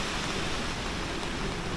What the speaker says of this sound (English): it's still raining pretty heavily